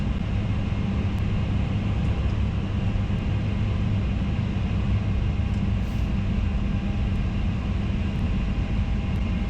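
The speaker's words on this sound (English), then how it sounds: "And we can switch off the engines." Lufthansa Cargo MD-11F jet engines being switched off after arrival at New York JFK, a steady loud low rumble and whine heard from inside the aircraft, continuous and unchanging with no talk.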